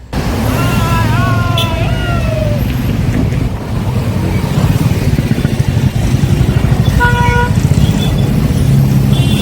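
Congested road traffic on the Patto twin bridge during a film shoot, with car and motorcycle engines idling and revving close by, horns beeping now and then, and a constant rumble of wind buffeting the microphone.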